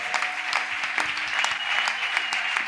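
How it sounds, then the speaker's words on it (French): A church congregation at an evening revival campaign breaks into loud, sustained applause, dense rapid clapping with scattered cheers, filling the room evenly throughout. "Acclame très fort pour l'homme de Dieu qui est là"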